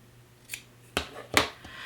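Scissors snip through quilting fabric for fall-themed coasters: three or four quiet, crisp cuts spaced irregularly, close up in a quiet room.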